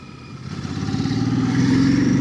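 A Royal Enfield Classic 650 motorcycle engine builds in revs with a rising, slightly whiny drone, heard close and fairly loud, with no one talking.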